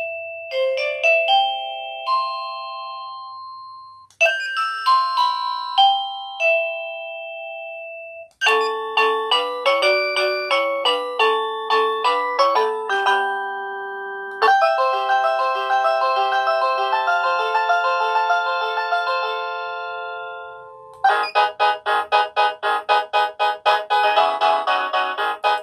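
A wireless motion sensor alarm receiver plays a series of bright electronic chime melodies, each tune a quick run of ringing tones separated by brief pauses, clear and close in a quiet room.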